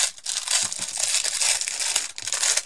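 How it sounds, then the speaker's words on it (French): Close, crackly crinkling of paper being pulled and crumpled, a busy stream of rustles with no talking. "Je l'enlève du papier, je suis désolée du bruit"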